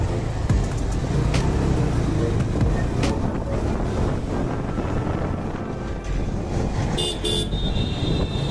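A motorbike horn gives a short beep near the end while overtaking in Dhaka traffic, heard over constant loud wind buffeting and road rumble.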